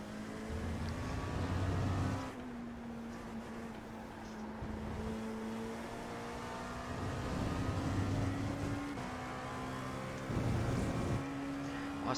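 LMP2 prototype race car lapping Red Bull Ring in a racing video game: a loud, continuous engine whine rises and falls through gear shifts, with a gritty burst of tyre and gravel noise.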